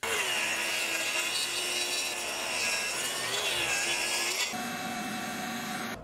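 A track saw ripping the live edge off a board of lumber while milling it for a tool stand, a loud continuous whining cut with a steady high buzz that shifts in pitch near the end.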